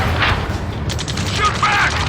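Gunfire in a battle in the video game Ace Combat 7, a dense, loud rumble of shots and booms that continues without a break, with radio voices and other battle noise layered over it.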